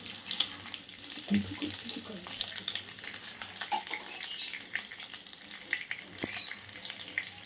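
Cardamom, cinnamon and bay leaf frying in homemade ghee, a soft crackling sizzle with occasional stirring scrapes and small clicks, fairly quiet and close, with no talking.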